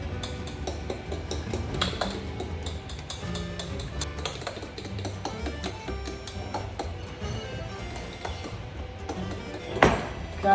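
A utensil folds flour into banana bread batter, tapping and clinking against the bowl in irregular, fairly quiet strokes, with a sharper clatter near the end.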